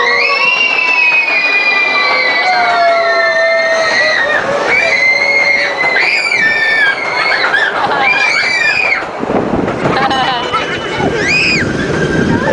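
A passenger train rides through a mountain tunnel, its wheels letting out shrill, wavering squeals over a rumbling roll, with excited voices mixed in near the end.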